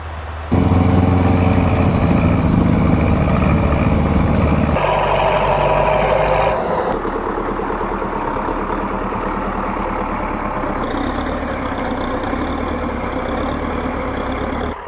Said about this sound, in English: There's so much history in these diesel engines.